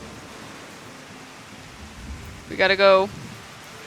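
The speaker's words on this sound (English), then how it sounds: "It's still raining in this game." Steady soft rain hiss fills the scene in Final Fantasy XIV, continuous and even, with a short burst of talking near the end.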